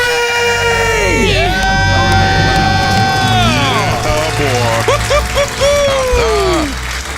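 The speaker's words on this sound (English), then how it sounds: "Let's hear a debt-free scream." A small group screams and whoops in celebration, loud and close, with long rising and falling cries overlapping and then breaking into excited shouts.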